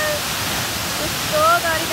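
A waterfall crashing down a steep, dangerous drop near a village, heard as a steady broadband roar of falling water, close and continuous, with a faint voice briefly speaking over it.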